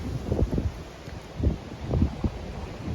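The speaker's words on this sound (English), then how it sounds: "This is why it was so windy." Gusty wind buffets the microphone in low, rumbling bursts, with no voices.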